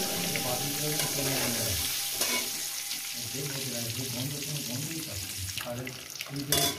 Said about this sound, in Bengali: ডিমটা এইভাবে ভেজে নেবো, বেশি কড়া ভাজবো না